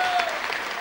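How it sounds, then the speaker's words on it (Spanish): An audience applauds at a live concert, a dense, even burst of clapping from a crowd heard briefly and at moderate level. "Un aplauso para todos."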